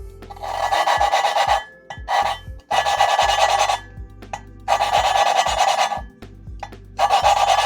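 An engine valve is lapped against its cylinder head with grit, making loud rhythmic rasping strokes in bursts of about a second, with short pauses between them.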